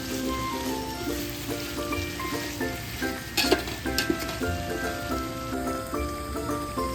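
Chopped tomatoes sizzle and fry with chicken for biriyani, a steady close crackle with occasional louder spatters and stirring scrapes, no talking.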